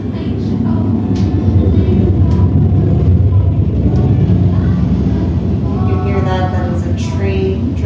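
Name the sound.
train driving by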